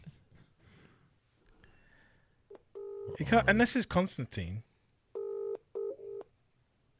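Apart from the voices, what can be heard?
telephone dialing tones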